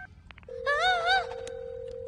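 A few quick telephone beeps, then a steady electronic phone tone that holds to the end, with a brief voice-like warble over it.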